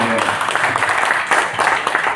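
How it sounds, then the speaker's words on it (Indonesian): Applause at a regional council audience hearing on fair wages, a dense broadband patter of many hands clapping steadily throughout, fairly loud, with some voices underneath. "Tepuk tangan untuk semua."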